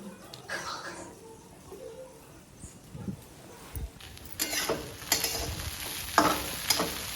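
Khichdi with whole peanuts and green chilli is stirred in a pan, giving soft scraping strokes and a light sizzle that grow louder and busier in the second half.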